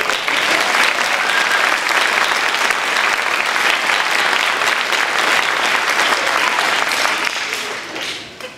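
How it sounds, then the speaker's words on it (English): Audience applause after a school concert, a dense, steady clapping crowd close and loud for several seconds before tapering off at the end. "Yes, you can clap."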